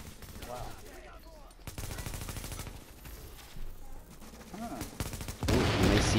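Gunfire from The Division video game comes in rapid automatic bursts that break off and restart, mixed with game effects and a loud burst at the end.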